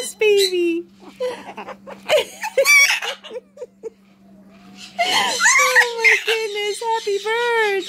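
A macaw squawks and chatters in bursts, some notes sounding like words or laughter, close by, with a person's voice speaking between the calls.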